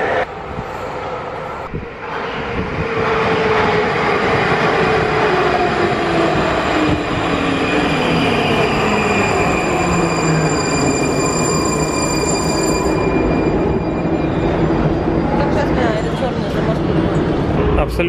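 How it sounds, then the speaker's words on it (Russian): A Prague metro train runs through a station, a loud sustained rumble with rising and falling pitch sweeps and high whine, with people talking over it. "Вот вам и станция метро чешская"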